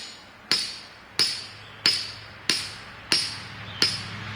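A hammer strikes six times in a steady rhythm, each blow a sharp, fairly close metallic crack with a brief ringing decay, spaced roughly two-thirds of a second apart while garden planting work goes on.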